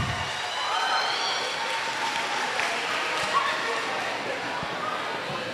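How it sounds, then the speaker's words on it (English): Audience applause at a school international festival after a Latin folk dance, a sustained wash of clapping from a crowd in a hall, steady and moderately loud. "give a round of applause for our Latin folk dance"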